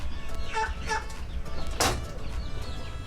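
A Shamo chicken, held at a free-range yard, gives a few short clucks followed by a burst of wing flapping, close and fairly loud over a low background.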